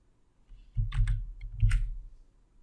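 Keys on a computer keyboard are typed in two short quick bursts of clicks, close and crisp against a quiet background, while entering a spreadsheet formula.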